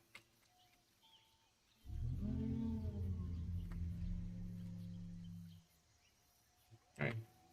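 A long, deep bellowing call from a Diplodocus in the video game Dinosaur Simulator holds steadily for nearly four seconds, then a short sharp noise follows after a pause.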